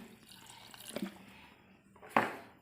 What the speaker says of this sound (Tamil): இதுக்கு வேகிறதுக்கு கொஞ்சமாக தண்ணி ஆட் பண்ணிக்கிறேன்.